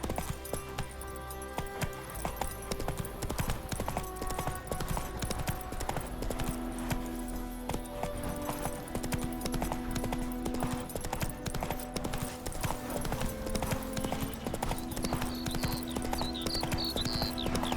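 Roach, Geralt's horse in The Witcher 3: Wild Hunt, galloping with steady rapid hoofbeats throughout, set against continuous game music and ambience.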